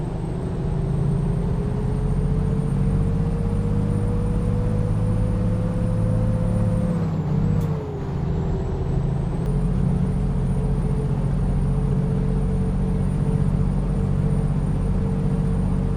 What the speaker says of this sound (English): So I thought I might drive the Western Star for this trip